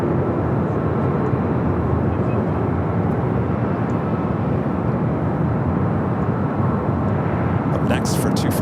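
A JetBlue airliner on runway 24 left at LAX produces a steady, loud broadband jet roar, heard from a distance and sustained throughout. Faint sharp clicks come in near the end.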